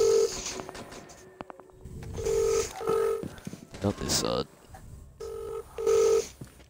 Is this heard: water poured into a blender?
no